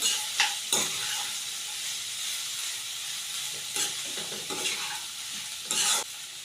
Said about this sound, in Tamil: இதை எல்லாத்தையும் சேர்த்து நல்லா கலந்துக்கிட்டு இருக்கிறேன்